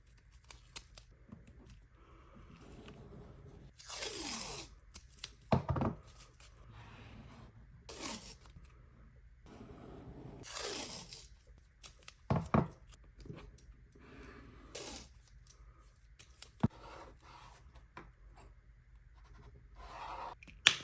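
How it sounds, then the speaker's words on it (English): Paint peeling away from paper during a painting session, heard alone as a series of dry tearing, scratchy bursts spaced irregularly, fairly close and moderately quiet, with quiet handling noises between peels. "I decided to shut up for a minute so you could hear like the paint peeling"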